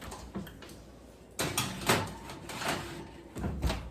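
An oven door opens and closes as a tray of chocolate chip cookies goes in, giving a few close, hollow metallic thuds and clunks amid light kitchen handling noise.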